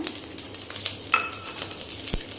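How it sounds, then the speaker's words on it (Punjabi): Garlic and two red chillies crackle in hot oil while being stirred for a dhaba-style dum aloo curry, a steady close sizzle with metal clinks of a spoon against the pan and a sharper knock near the end. "ਹਿਲਾ ਕੇ ਬਹੁਤ ਜ਼ਿਆਦਾ ਇਹ ਤੜਕਣ ਲੱਗ ਜਾਂਦੀ ਹੈ"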